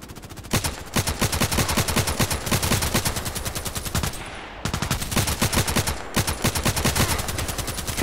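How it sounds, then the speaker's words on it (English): Rapid machine-gun bursts from the Contract Wars shooter game rattle loud and continuous in two long strings, separated by a brief pause. "Isn't that awesome to see him firing?"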